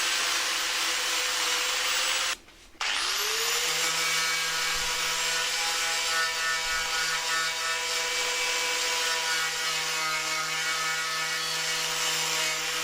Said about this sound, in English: Still cleaning off some of that adhesive protection